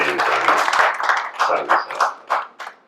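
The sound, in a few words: audience applauding to welcome a poet at a mushaira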